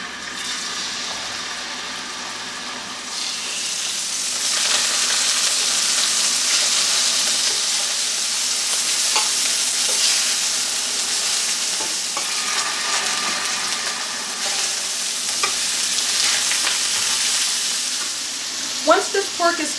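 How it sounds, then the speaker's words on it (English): Pork tenderloin cutlets fry in batches in a skillet, giving a steady, fairly loud sizzle that swells and settles, with occasional scrapes and a few clinks near the end. "we're going to fry the pork tenderloin cutlets in batches for about 3 minutes aside"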